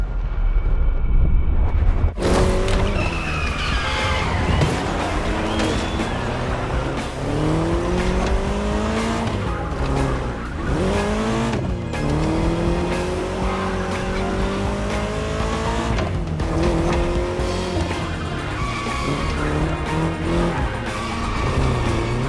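A car races in The Crew Motorfest video game, its engine roaring loudly and continuously with rising and falling pitch sweeps as it shifts and accelerates, while tires squeal through hard turns. The sound kicks in abruptly after a short quiet opening.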